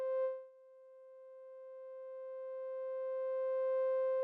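A synthesizer key played softly, with velocity modulating the filter cutoff, gives a single pure, steady sustained tone that holds evenly at low volume after a brief swell at the start.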